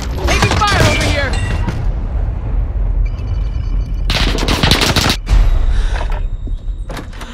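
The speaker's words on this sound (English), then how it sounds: "Taking fire over here." Bursts of automatic gunfire in a Call of Duty Warzone match, loud rapid volleys in two main clusters with scattered shots and game sounds between them, under occasional in-game voice radio chatter.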